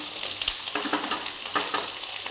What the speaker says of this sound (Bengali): এই যে একটু নাড়াচাড়া করব একটুখানি